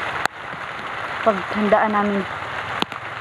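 Heavy rain falling, a steady hiss of drops on surfaces beneath someone speaking in Filipino, with a couple of sharp knocks.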